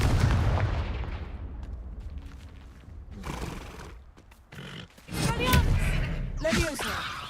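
A fiery Confringo explosive spell blast in the Hogwarts Legacy video game opens with a loud booming burst that decays away, followed by further rumbling impacts, whooshes and horse-like whinnies in the game mix.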